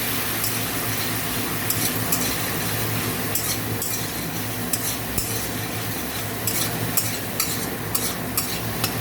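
Steady stirring of turmeric into a mustard parshe fish curry in a pan: continuous sizzling and frying hiss with faint, scattered spoon scrapes and taps, no talking.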